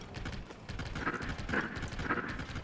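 Horse hooves clip-clopping in the video game The Legend of Zelda: Tears of the Kingdom, a rhythmic trot of steady hoofbeats, moderately quiet with game ambience.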